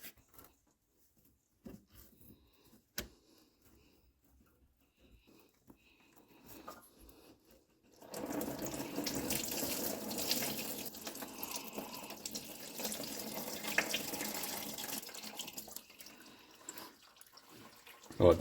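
Coolant pours from a disconnected radiator hose on a Chevrolet Trailblazer during a thermostat and clutch fan replacement, a steady splashing stream that starts abruptly after several seconds of quiet with faint clicks and continues loud and close.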